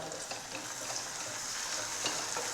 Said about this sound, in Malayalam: ഈ തക്കാളിയെല്ലാം നമുക്കൊന്ന് നന്നായി വഴറ്റി ഉടച്ചെടുക്കാം